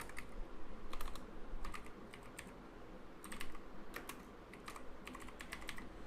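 Keys tapped on a computer keyboard while a long word is typed into a spreadsheet cell: bursts of quick, light clicks in several clusters over a quiet background, close and fairly soft.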